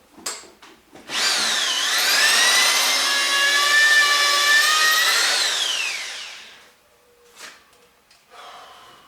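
A power drill bores a hole in metal tube for a Kawasaki GT550 bobber build, the motor whining up and holding a steady loud pitch for several seconds before winding down, with a few taps and handling noises around it.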